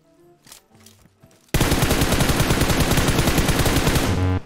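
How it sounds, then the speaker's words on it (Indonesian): Sustained automatic gunfire in PUBG Mobile, enemy fire erupting suddenly after a quieter stretch and continuing as a loud, dense rapid burst for about three seconds before cutting off. "Dia lagi nembakin orang."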